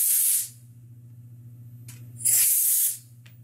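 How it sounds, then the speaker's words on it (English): Low-pressure compressed air blows out a Honda GCV160 carburetor during a fuel system rebuild. Two short, sharp hissing bursts stand out against a quiet low hum. "Let me just blow it with some low pressure air off camera."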